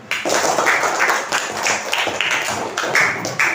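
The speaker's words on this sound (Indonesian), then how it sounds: "kita tepuk tangan dulu" A school class clapping together in a lively, rhythmic pattern, close and loud, with bursts of accented claps recurring throughout.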